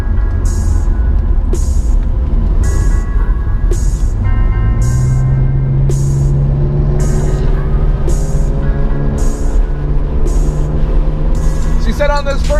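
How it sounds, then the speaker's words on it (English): A car rolls out of the pit lane at Laguna Seca Raceway, its engine note climbing steadily and holding loud and close, with regular bursts of noise over a constant drone. "We're rolling out of the pits right now."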